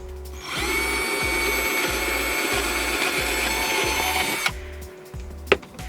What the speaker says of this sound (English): Start the outline to finish cutting out the rest of the hole